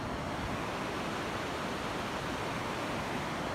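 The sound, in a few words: river flowing at the top of Skogafoss waterfall, Iceland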